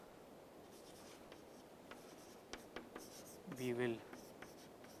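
A lecturer writes on the board during a proof by induction, producing faint taps and scratchy strokes of varying length, with a brief spoken phrase near the end.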